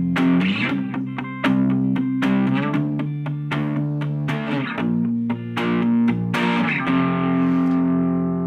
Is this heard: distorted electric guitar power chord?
yes